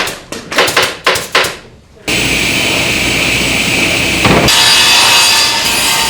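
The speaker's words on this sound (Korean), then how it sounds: "이른 아침부터 노련한 목공 소리가 들려온다" Rapid rasping strokes of a hand saw cutting wood in a sofa factory, followed by a loud, steady whine of a power saw or machine running close by.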